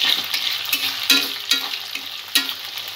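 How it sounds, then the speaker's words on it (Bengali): Noodles deep frying in hot oil while being stirred, a steady close sizzle with intermittent scraping stir strokes and soft clatter, no voices. "কিছুটা করে নুডলস ভেজে নেব। এইভাবে নাড়তে থাকতে হবে।"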